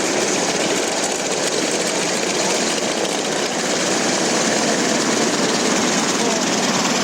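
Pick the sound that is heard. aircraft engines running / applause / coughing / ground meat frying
aircraft engines running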